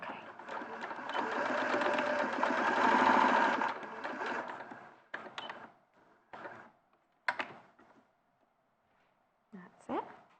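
A sewing machine stitching a quarter-inch seam on fabric placed right sides together, running in a fast steady whir for several seconds, then stopping and starting in short bursts while people talk.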